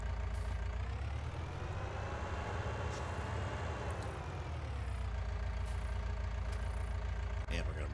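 A truck in Farming Simulator 19 rumbles at a steady idle while being parked, low engine drone with a short air-brake hiss near the end, under quiet talk.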